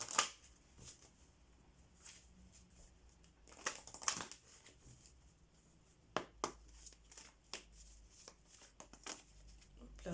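Angel oracle cards being shuffled for a reading: close, soft riffling and slapping bursts, spaced irregularly, with quiet rustling between them.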